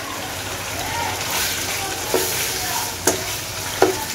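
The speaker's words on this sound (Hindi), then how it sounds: "अब इसको इतना भूनेंगे कि टमाटर हमारे बिल्कुल गल जाएं और बिल्कुल मसाले के साथ मिल जाएं" Chopped tomatoes sizzle and fry with beef karahi in a pan, stirred steadily, with a few sharp utensil clinks against the pan, close up over a constant frying hiss.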